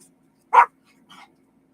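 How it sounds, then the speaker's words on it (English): A dog gives one short bark nearby, followed by a fainter second yip about half a second later, against otherwise quiet indoor background. "Sorry about the dog."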